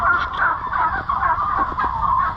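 A flock of 10.5-week-old turkeys in an enclosed turkey farm barn gobbles loudly and continuously. Dense, overlapping warbling calls form a constant chorus with no pauses.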